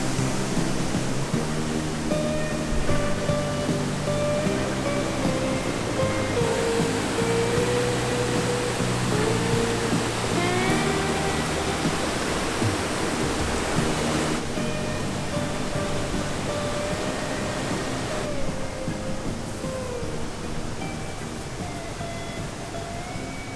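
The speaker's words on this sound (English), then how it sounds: "this beautiful waterfall I wanted to show you guys today." A waterfall in the green Canadian Rockies pours as a steady, wide rushing roar that stays constant, with faint tonal sounds drifting over it.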